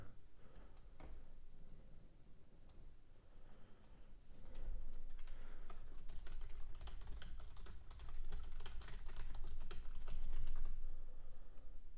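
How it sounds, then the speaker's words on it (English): Rapid clicking of keys on a computer keyboard, irregular bursts of typing up close with short pauses, continuing throughout. "if you hear typing, that's just me making alerts"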